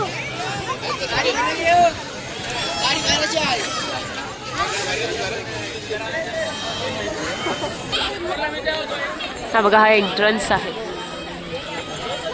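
Dense crowd chatter and hubbub at Kulaba fort in Alibag during the Ganpati festival, many voices overlapping close by and steady throughout, with someone talking over it.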